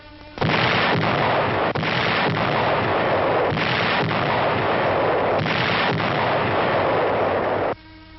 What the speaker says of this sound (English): entrenched Japs ahead are pounded by our heavy howitzers